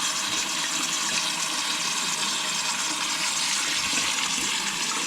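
A toilet flushing, a loud continuous rushing of water that stays steady throughout, close and with no voices.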